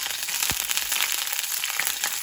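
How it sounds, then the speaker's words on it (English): Fresh herbs sizzle in hot oil in a pan, giving a steady, dense crackling hiss with occasional sharper pops, close and continuous throughout. "really want your herbs to sizzle as they go in"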